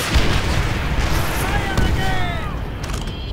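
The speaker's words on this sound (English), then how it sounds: "One more rocket." A rocket explosion in Call of Duty: World at War hits as a loud, close boom. Rumbling debris and battle noise follow it, with some voices mixed in.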